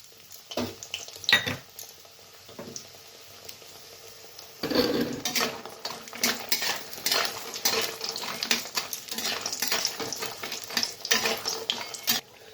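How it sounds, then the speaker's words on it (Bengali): Lentil dumplings (bori) fry in hot mustard oil in a wok, a soft sizzle under frequent metallic scrapes and clinks of a spatula, close and busy throughout. "তো প্রথমে আমি বড়িগুলো ভেজে নেব"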